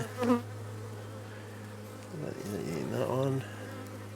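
Honey bees buzz around an open hive during an inspection at a farm apiary, a steady close drone with louder passes near the ear, while a person speaks briefly over it.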